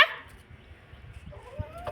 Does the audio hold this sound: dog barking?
yes